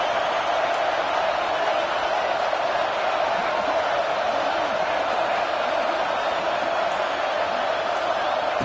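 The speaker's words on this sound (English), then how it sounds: "Listen to the crowd energy here in the early going." A football stadium crowd roars after a 4th down stop, a steady, even wall of distant cheering noise that holds without breaks.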